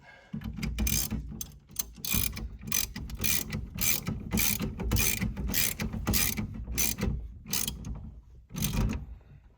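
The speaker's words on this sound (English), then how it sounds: "You take your ratchet, with this one being 3/4 inch." Rapid bursts of ratcheting clicks from a 3/4 inch ratchet tightening a turn signal switch on a classic GM Pontiac, repeated in quick strokes with short pauses, close and fairly loud with no talking.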